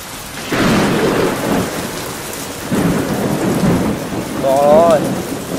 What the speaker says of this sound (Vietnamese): Mưa to.